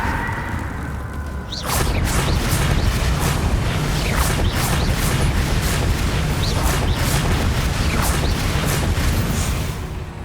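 The Confringo fire spell in Hogwarts Legacy detonates: after a brief lead-in, a loud sustained roaring blast with rapid repeated bursts and whooshes continues for several seconds, with no voices.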